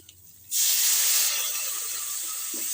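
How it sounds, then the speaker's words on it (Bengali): Water poured into a pan of frying cumin, coriander, turmeric and chili powder with cauliflower and potato bursts into a loud, sudden hiss, then settles into a steady sizzle that continues close by. "আমি একটু জল দিলাম কারণ মশলাগুলোকে একটু কষতে হবে সবজির সঙ্গে"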